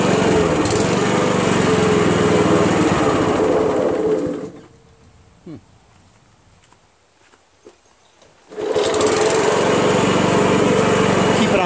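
A Honda Harmony HRM215 self-propelled lawn mower engine runs loud and close on choke, cuts out for about four seconds to near silence with a few faint knocks, then roars back at full steady speed.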